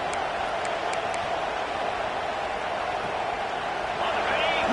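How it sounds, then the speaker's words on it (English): A large football stadium crowd roars in a steady, dense wash of cheering that holds loud and continuous throughout, with no breaks or swells standing apart from the noise. "Listen to the crowd energy here in the early going."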